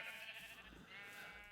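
Sheep bleating on a Minecraft sheep farm, a steady wash of overlapping bleats from many animals at once, fairly faint and continuous with no talk over it.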